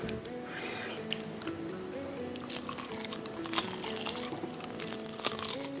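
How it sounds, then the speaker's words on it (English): Someone bites into Korean fried chicken with a crisp, crunchy crust, producing scattered sharp crunches and crackles over a steady, faint tonal background. "Crust is really crispy and crunchy."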